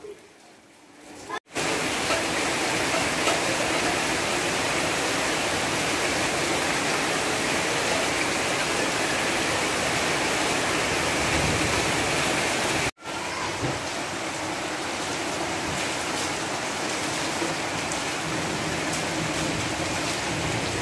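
Floodwater rushing after heavy rain, a dense continuous roar like a torrent that starts abruptly and holds steady and loud, broken by one brief cut.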